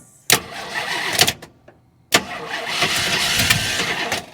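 An abandoned 1968 Ford XL Fastback cranks but fails to start in two loud bursts of starter churning, the first about a second long and the second longer, with a short silence between them.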